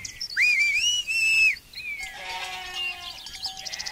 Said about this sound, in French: un coup de sifflet aigu retentit